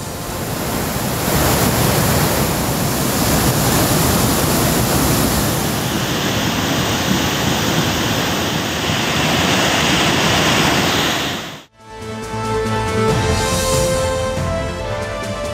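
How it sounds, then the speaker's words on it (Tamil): A flash flood torrent surges over waterfall check barriers more than eight feet deep after heavy rain in the Nilgiris district, a loud, continuous roar of rushing water that cuts off abruptly and gives way to music. "அருவி பகுதியில் உள்ள 8 அடி ஆழத்திற்கு மேல் உள்ள நீர்த்தேக்க தடுப்புகளை தாண்டி காட்டாற்று வெள்ளம் சீறி பாய்ந்து செல்கிறது"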